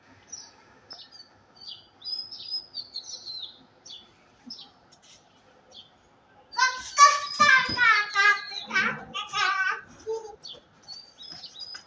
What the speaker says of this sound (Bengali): পাখি ডাকছে কিচির মিচির